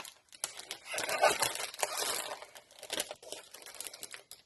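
Crinkly plastic packaging, glued on both sides, is pried and pulled open, giving close, continuous crackling and crumpling with small tearing bursts, with no talk.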